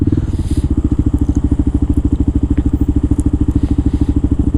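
A dual sport motorcycle ridden through New York City, its engine putting out a close, loud, rapid pulsing thump at a steady rhythm with no talking.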